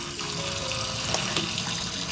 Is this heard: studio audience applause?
no